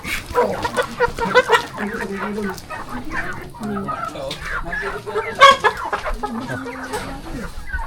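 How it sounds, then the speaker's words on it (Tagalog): Chickens cluck steadily and overlapping, with a few louder squawks, close by in a busy outdoor farmyard. "Ay, may mga manok."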